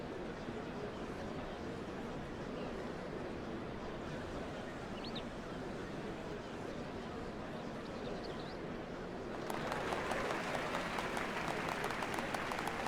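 A crowd applauds during a ceremony in the game Final Fantasy XIV: Dawntrail, a dense, distant wash of clapping that swells noticeably louder and brighter toward the end, with no talking.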